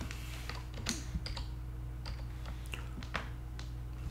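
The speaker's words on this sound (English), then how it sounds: "So I'm going to type in Google News." Computer keyboard keys clack in a steady run of quick taps over a low, constant background hum, with a few sharper strikes standing out, as someone types on a Manjaro Linux Xfce desktop.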